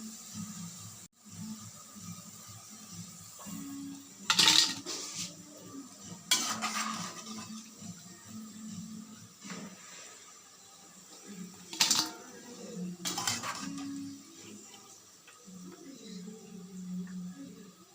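Crispy fried okra 65 is moved onto a plate, with a few sharp ceramic and metal clinks standing out over a quiet kitchen background and soft scraping between them.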